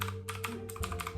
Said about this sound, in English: Got my first mechanical keyboard